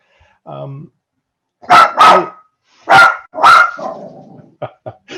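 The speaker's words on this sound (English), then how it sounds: "There's my guard dog." A guard dog barks several times, starting with a low growl, then loud sharp barks in two close pairs, followed by a few short, quieter yips near the end. Nearby and clear against a silent background.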